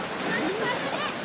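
Thalakona waterfall in Chittoor district near Tirupati rushes in a steady, dense wash of falling water, with people talking over it.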